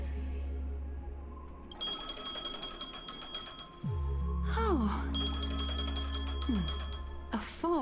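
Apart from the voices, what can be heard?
phone ringing in video game Honkai Star Rail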